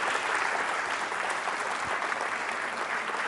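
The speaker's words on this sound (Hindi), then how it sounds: "फिलहाल तालियां बजाइए इन सभी के लिए जोरदार तरीके से।" Steady applause from a university quiz show audience, dense and continuous for the whole stretch at a moderate level, with no talking over it.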